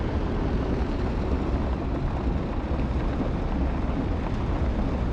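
Steady, dense roar of a P-47 warbird's radial engine in DCS, loud and continuous with no letup, broadband rumble filling the whole stretch without any talking.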